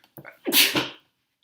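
A single sharp sneeze close up, a quick inhale followed by a forceful burst, then silence.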